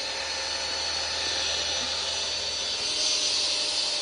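A power drill running continuously against a Nike Air shoe, a steady high whining drone throughout with no pauses, slightly louder toward the end.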